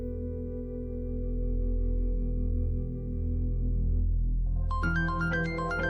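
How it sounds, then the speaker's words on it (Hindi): A phone rings over a sustained background music score in a domestic drama scene, its bright electronic ringtone pattern cutting in near the end, close and clear. "फुप्पो का फोन आ रहा है"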